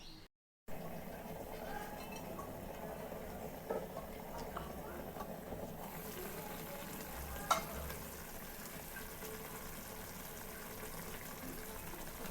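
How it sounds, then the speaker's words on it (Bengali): Potatoes for a breakfast aloo bhaji sizzle in a pan. A steady, crackling fry runs throughout, with occasional scrapes of stirring and one sharp utensil clink midway. "এখন আলুটা ভাজি করব।"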